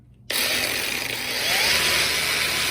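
A small SEESII cordless angle grinder with three speed settings starts abruptly and runs at low speed with a loud, steady high-pitched whine and motor hum, close up and alone.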